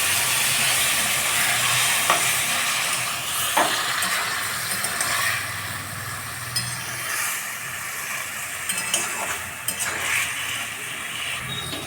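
Pumpkin stem greens being cooked for a vegetarian Bengali chachchari, hissing and sizzling steadily after water goes into the hot pan, with a few soft stirring knocks scattered through.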